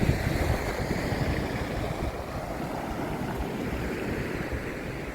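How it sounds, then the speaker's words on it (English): Ocean waves break and wash up a secluded beach on a rapidly incoming tide below cliffs, a steady close roar of surf with wind buffeting the microphone and no voices. "Bit of a wave happening there."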